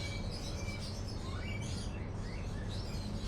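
Small birds chirp faintly in short, scattered tweets over a constant low rumble of background noise, with no other voices.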